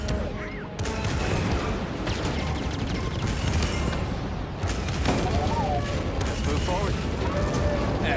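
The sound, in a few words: starship cannons firing in a video game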